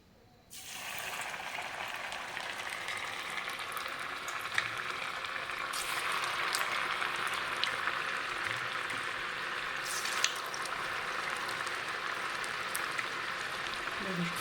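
Onion bhaji batter drops into hot oil and a steady, loud sizzle of frying fritters follows, bubbling continuously with occasional crackles and pops.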